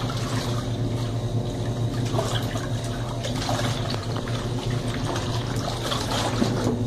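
Water pours steadily into the tub of a Colormaq Pioneer twin-tub washing machine, a continuous trickling and splashing fill with a low hum beneath, heard up close and without talk.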